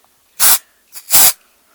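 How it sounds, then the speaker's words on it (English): Scented spray product from an aerosol or pump bottle, two distinct close hissing bursts about half a second apart, loud and alone with no talk. "Okay, I'm going to spray it."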